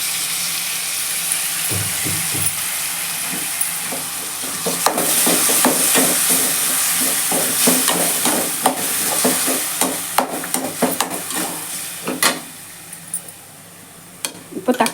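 Yogurt is stirred into a frying pan while cooking beetroot rice, giving a steady sizzle and hiss with repeated scraping and clinking stir strokes that grow busier partway through.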